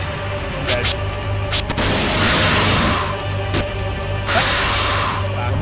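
Grenade blasts in the survival-horror game Deep Fear on the Sega Saturn, sounding as a few heavy booms and rumbling bursts over a steady game hum, with talk mixed in throughout.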